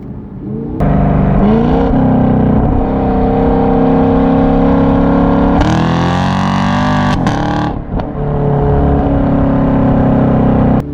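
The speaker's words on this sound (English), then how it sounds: "We'll see if we can keep traction at 45 miles an hour." A car on Nitto NT555 G2 tires accelerates hard at about 45 mph in 50-degree weather, the engine droning loud and steady with a surging, roaring wheelspin burst midway as the rear end breaks loose.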